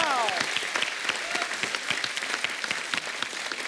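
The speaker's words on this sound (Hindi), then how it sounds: "जोरदार ताली इनके लिए।" An audience at a comedy show claps loudly and steadily for an award-winning film actor, a dense wash of applause that holds for several seconds with crowd noise mixed in.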